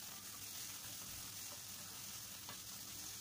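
Carrots and capsicum sauté in a pan over high heat, giving off a quiet, steady sizzle with a few soft stirring scrapes.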